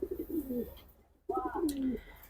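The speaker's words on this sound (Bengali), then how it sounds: "এই হলো পাঙ্কি কবুতর" Pankhi pigeons coo close by in two short bursts of soft, rolling calls separated by a brief pause.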